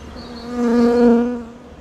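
Bees buzz as a virgin queen bee sings, a single close, steady droning tone that swells loudly in the middle and then fades over about two seconds.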